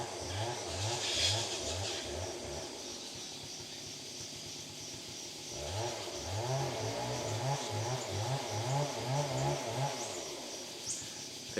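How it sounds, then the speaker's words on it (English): A small engine buzzes in repeated pulsing bursts, revving up and down like a chainsaw at work, with a pause in the middle before it starts again. "I think that's a chainsaw."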